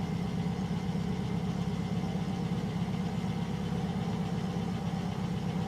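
Engines of a Latecoere 631 flying boat in Microsoft Flight Simulator 2024, running at around 1000 RPM: a steady, droning multi-engine hum with a low throbbing pulse, constant and unbroken throughout.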